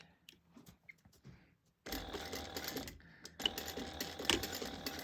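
A sewing machine runs a 1/8-inch seam around a fabric bag. A few quiet clicks and handling sounds come first, then a steady close motor whir and needle chatter that pauses briefly and starts again.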